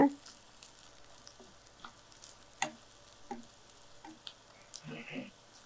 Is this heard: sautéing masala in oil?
yes